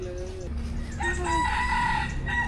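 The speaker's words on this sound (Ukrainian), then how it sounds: "Півники, ось такі півники, курочки в храмі живуть." A rooster crows in a drawn-out call, moderately close, at a Buddhist temple in Thailand, amid background chatter and hens clucking nearby.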